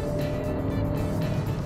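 A Hyundai Creta N Line drives with its engine running steadily throughout, a continuous close-up hum of road and engine noise with no speech.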